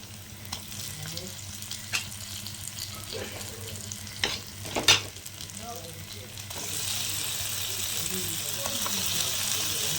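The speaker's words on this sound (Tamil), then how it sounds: "இப்போ நம்ம ஒவ்வொரு காடையாக போட்டுக்கலாம்." Quail pieces sizzle in a pan with half-cooked onions, with light stirring knocks at first and then a louder, fuller frying hiss that swells and holds steady.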